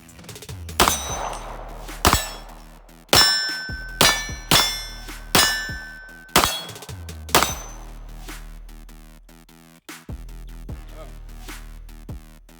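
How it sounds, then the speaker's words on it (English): Eight pistol shots from a 1911 handgun, each followed by a ringing clang from steel targets, fired in a quick uneven rhythm with loud sharp onsets and decaying metallic rings. "We're gonna hit 8 shots."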